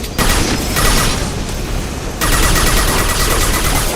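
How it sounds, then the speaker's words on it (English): Sustained loud video-game gunfire from Mass Effect 2, a dense rattling barrage that breaks off briefly and resumes heavier, with a concussive shot among the bursts and no talk over it. "Firing concussive shot!"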